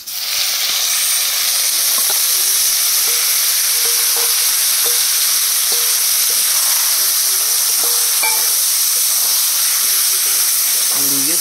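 Leafy greens sizzle in hot oil with garlic, onion and cumin, a steady loud frying hiss with occasional stirring scrapes and clinks of the spatula against the pan throughout.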